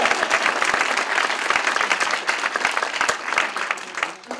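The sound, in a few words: audience applause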